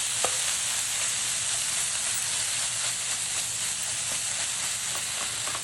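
Food sizzling steadily in a hot pan as it is heated and pressed flat to crisp at the edges, a continuous dense frying hiss with a few light scrapes, no talking.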